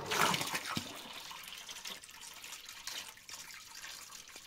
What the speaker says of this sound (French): pour simuler ça, j'ai pris un arrosoir plein d'eau